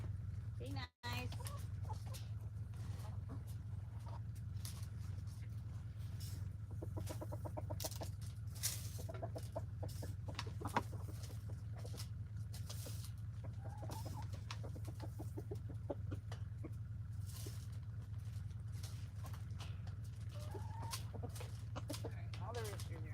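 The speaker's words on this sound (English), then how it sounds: "All the roosters are out." Roosters and chickens cluck in a farmyard during weekend chores, with scattered clucks and calls at moderate distance over a steady low hum, and people talk now and then.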